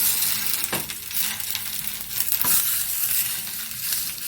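Jackfruit ada batter sizzles on a hot pan in a steady, close hiss, with two brief louder bursts of crackle partway through.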